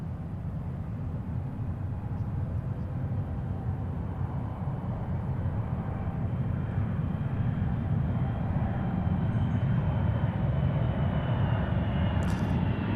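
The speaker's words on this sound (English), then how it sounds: "It is indeed a 777." A Boeing 777 jet at Seattle's airport gives off a steady, broad engine roar, moderately distant and unbroken for the whole stretch, with no voices over it.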